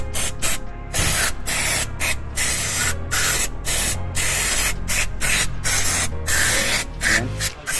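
Spray cleaner hissing onto the solenoid of an automatic transmission valve body on a DA17V 4X2 turbo van, fired in a rapid series of short, close, loud bursts with brief gaps between them.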